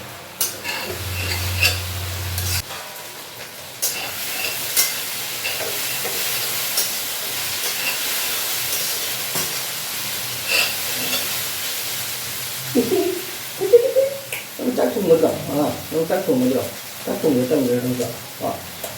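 Okra and onion frying in a pan, a steady hiss and sizzle with scraping stirs, and a person talking over it toward the end.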